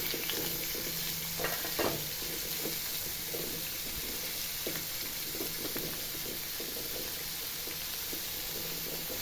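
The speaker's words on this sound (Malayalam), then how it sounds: "വെളിച്ചെണ്ണ ഒഴിവാക്കി ഓയിലൊഴിച്ച് നമുക്ക് സവാള ഇട്ട് കൊടുക്കാം" Onions fry in sunflower oil with a continuous sizzling hiss, punctuated by a few soft spatula stirs and clinks close by.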